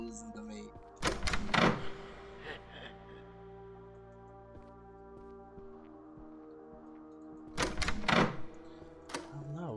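Doors open in the game Don't Touch Tolyan with two clusters of heavy thunks and creaks, one early and one near the end, separated by a quiet stretch with a low hum.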